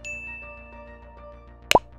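A single bright notification bell ding rings out near the end, sharp and clear, after a soft sustained tonal musical bed.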